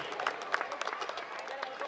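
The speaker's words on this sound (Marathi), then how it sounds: "जोरदार टाळ्या होऊ द्या याची मुकुलीसाठी" Applause at an award ceremony during a book distribution drive, a crowd clapping steadily and densely at moderate volume, the claps blending into a continuous patter.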